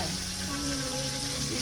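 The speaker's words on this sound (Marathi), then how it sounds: "कोलबी पण फ्रायसाठी सोडलेली आहे" Dried shrimp (kolbi) frying in a pot with onion, garlic and tomato gives off a steady, close, hissing sizzle with no break.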